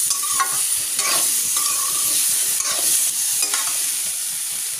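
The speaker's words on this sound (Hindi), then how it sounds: "ये प्याज डाल देते हैं, और ये टमाटो भी इसमें ऐड कर देते हैं, और अब हम इसमें थोड़ा सा इसको मिक्स कर लेते हैं" Onions and tomatoes are stirred and fried in a pan for a halwai-style shahi paneer, with steady close sizzling and scraping stir strokes and no talking.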